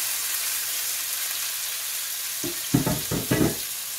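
Vegetables tossed into a pan of hot oil, a steady sizzling hiss followed by several loud bursts of crackling as they hit the pan and are stirred, close by with no talking.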